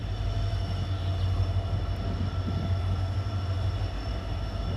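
Diesel-hauled train pulling out of platform two at Malda, a steady low engine drone and rolling wheel rumble heard from aboard, even and moderately loud with a faint high hum above.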